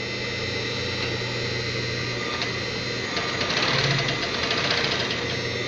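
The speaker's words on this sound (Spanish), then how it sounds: "La polea está girando hacia arriba" An industrial machine's electric motor running steadily as it turns the pulley upward, a constant low hum with faint mechanical ticking, moderately quiet and alone.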